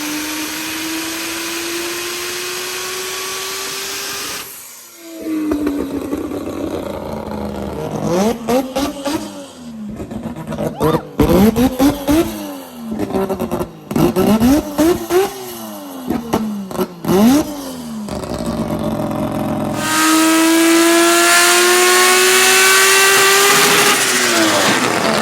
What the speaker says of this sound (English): Is this a rotary? Yeah, it's a rotary.